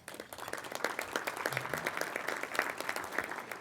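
A chamber of commerce forum luncheon crowd gives a standing ovation, with many hands clapping in a brisk, steady patter that swells slightly after the start and holds at moderate distance.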